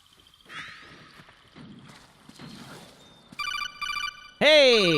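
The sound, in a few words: phone call ringing in Metal Gear Solid 4 video game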